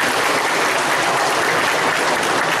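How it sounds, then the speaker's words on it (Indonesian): Dense, steady audience applause at an Indonesian year-end reflection gathering, a continuous wash of many hands clapping with no break, fairly loud and close throughout. "Tepuk tangannya."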